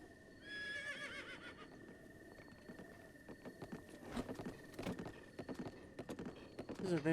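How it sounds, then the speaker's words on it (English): A horse in the open-world game Breath of the Wild whinnies with a high, wavering neigh near the start, then its hooves clip-clop in an uneven patter that grows louder toward the end. "This is a very slow horse."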